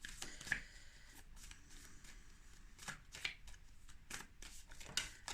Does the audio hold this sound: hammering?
no